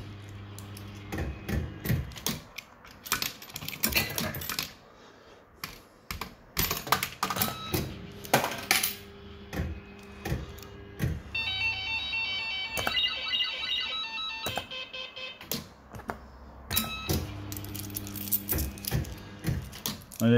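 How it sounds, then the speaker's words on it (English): Bell-Fruit Firecracker nudge fruit machine running its mechanism, with dense clicking and clattering of reels and switches, electronic beeping tones and bursts of jingling, loud and close throughout with no talk. "these are just a basic nudge machine, nudge up or down"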